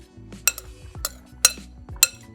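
Utensils clink sharply against a bowl four times while salmon dish ingredients with lemon, salt and olive oil are mixed, each bright tap followed by soft scraping in a quiet kitchen.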